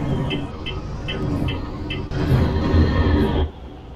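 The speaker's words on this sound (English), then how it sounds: "Set the Jake. Let me see how it sounds." Jake brake on an Autocar truck in the video game American Truck Simulator: a loud, steady rumbling engine drone with a rapid chatter, holding through a sudden surge partway and then dropping off near the end, with no talk.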